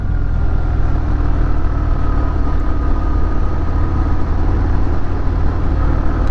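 A Harley-Davidson Fat Bob motorcycle engine on the road heading into a corner, a steady loud low rumble with continuous drone and wind, unbroken for several seconds.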